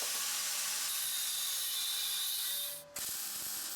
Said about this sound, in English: Tack them again, make sure they're good and secure,